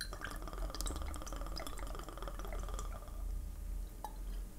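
Vodka, 50 ml, pours into a cocktail shaker packed with ice, giving continuous liquid trickling with small clinks and drips of ice against glass and metal, close and fairly loud.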